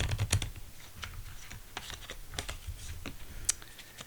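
A tarot card deck shuffled by hand in gloves, giving soft papery riffles and flicks with a few sharper snaps, close up and steady in a quiet room.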